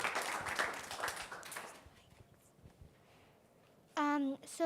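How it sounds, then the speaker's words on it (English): An audience at a poetry slam on incarceration and redemption welcomes a poet with a dense burst of finger snaps and claps that fades over about two seconds, followed by quiet and a brief loud tone near the end. "We welcome with finger snaps and claps."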